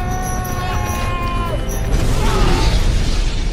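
A C4 bomb blast in the Hitman video game: a loud burst swells at about the two-second mark, breaking into a dense crashing roar. A tonal, mechanical drone runs underneath it.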